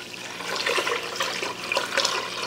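A half gallon of water pours steadily into a cooking pot for heating ham hocks, a continuous loud splashing rush with no talking.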